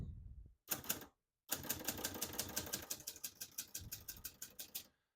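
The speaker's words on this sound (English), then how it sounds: "all the keys type nice and none of them skip or stick" Keys clack on a 1966 Hermes 3000 portable typewriter, first in a short burst, then in a long, brisk run of crisp, evenly paced strikes, close and alone.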